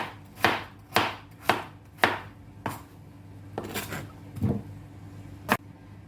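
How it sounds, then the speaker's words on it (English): Knife chopping carrots into small cubes on a board, a series of sharp, close, separate cuts at first, spaced about half a second apart, then a few looser, more scattered chops with quiet pauses between. "Cut the carrots up into small cubes."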